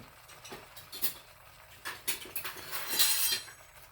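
A spoon stirs goat curry in a pot, producing irregular metallic clinks and scraping taps against the sides that come in small clusters, close and fairly quiet, with no talking.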